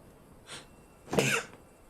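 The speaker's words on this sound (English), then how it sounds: "I think it's the first time I've sneezed on stream" A single close sneeze bursts out sharply after a soft preliminary intake of breath, brief and alone in a quiet room.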